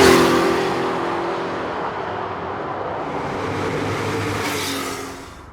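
Porsche 911 Turbo pulling hard under acceleration, with a loud, sustained engine roar and turbo whoosh that holds steady, then rises slightly before fading as the car moves on. No voices are heard.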